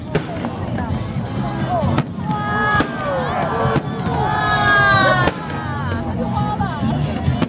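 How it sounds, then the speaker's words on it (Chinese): Fireworks burst continuously at a fireworks festival, sharp booms and crackling pops falling in a steady barrage with whistling streaks, while people chatter nearby under the noise. "忘记开烟火。"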